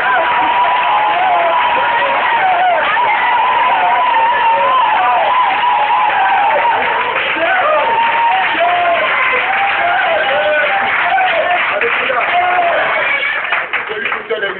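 Church congregation at a deliverance service in a village, cheering and clapping loudly in sustained applause with shouts and ululating voices, fairly close and continuous throughout.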